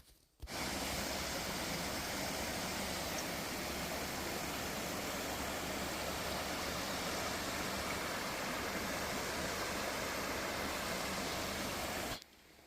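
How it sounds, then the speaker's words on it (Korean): A mountain stream in Sancheong rushes steadily with clear water, a loud, even broadband flow that starts abruptly and holds constant for about twelve seconds, with no voices over it. "잠시 물소리 한번 들어보도록 하겠습니다"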